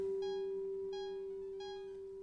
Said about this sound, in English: What is that incessant beeping sound?